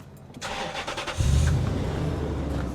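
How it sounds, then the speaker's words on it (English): A car engine cranks and catches during a test of 4WD 12-volt products, a short starter whir followed by a steady idle that settles at a moderate level. "Go start the car."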